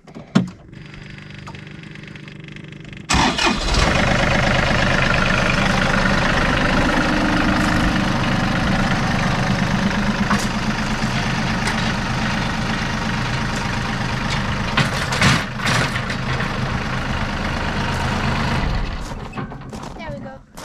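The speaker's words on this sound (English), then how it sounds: "use the tractor as a hoist to lift up the go-kart so that we can paint it" A tractor engine runs steadily while used as a hoist to lift a go-kart in a shop, its loud, rough idle starting abruptly after a quieter opening and continuing throughout with slight fluctuations and a few clanks.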